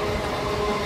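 Steady rumble of a moving local train heard from inside a carriage, a loud, continuous roar of wheels on track.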